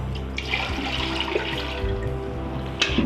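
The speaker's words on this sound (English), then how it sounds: "Pour in 2/3 water" Water pours steadily into the metal pot of a Noxxa electric pressure cooker, a continuous rushing splash close by with a brief clunk near the end.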